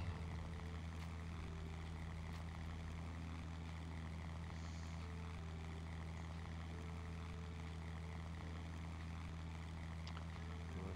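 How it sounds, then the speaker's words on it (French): Propeller engine of a Latécoère 28 airplane in a flight simulator game, droning at a steady, constant pitch throughout, faint and unbroken, with no talk. "Hop, l'avion se barre."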